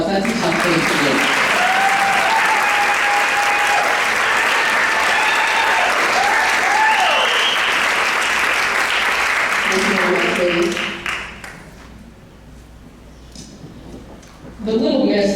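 Sustained, loud audience applause rolls through a hall at the Marshall County Blueberry Festival scholarship pageant, a few cheers rising over it, before dropping to a brief quiet stretch and a final burst of sound.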